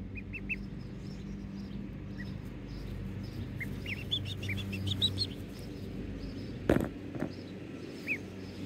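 Ducks and chickens on a homestead at dusk, being shut in for the night: scattered distant quacks and chirpy calls over an outdoor ambience, with one brief louder knock near the end.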